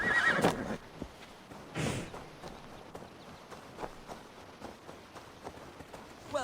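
A horse in the Assassin's Creed Valhalla video game whinnies loudly near the start, with hoof clip-clop and faint footsteps following beneath quieter background sounds.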